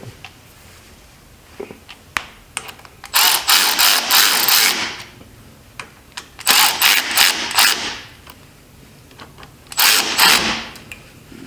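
A socket ratchet works on the engine of an abandoned Yamaha 250 Timberwolf ATV, with three sustained bursts of rapid clicking separated by scattered metallic taps and clanks, close and fairly loud.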